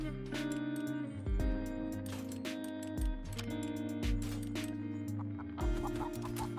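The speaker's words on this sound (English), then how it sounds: "Chickens!" Chickens in a video game cluck in repeated short bursts over steady in-game music with rhythmic thumps, moderately loud and continuous.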